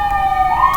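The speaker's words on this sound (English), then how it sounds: "the sirens" Emergency vehicle siren wailing outside, a steady rising tone heard in a brief snippet with no talk over it.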